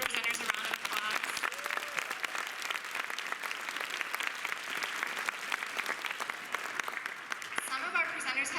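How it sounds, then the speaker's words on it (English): An audience applauds presenters at a closing session, with steady, dense clapping that fills the room throughout and stays even from start to finish. "If we can just give our presenters a round of applause."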